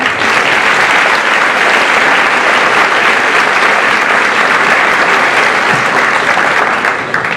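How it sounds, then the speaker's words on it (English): Loud, dense applause from a crowd at a high school Veterans Day celebration honoring guests, a continuous roar of clapping that stays even from start to finish. "Please give them a round of applause for taking time out of their busy schedule to be here with us today."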